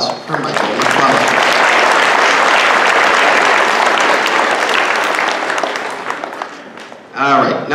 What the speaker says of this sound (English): So let's give a round of applause for Michael McClellan.